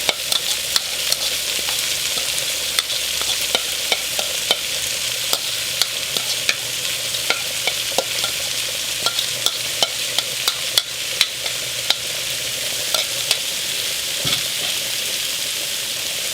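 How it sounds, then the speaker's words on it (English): Leeks, carrot, onion and celery stirred in a pot for a creamy potato soup, with a continuous loud sizzle and frequent scraping spoon strokes throughout, no voices. "And just give that a quick mix."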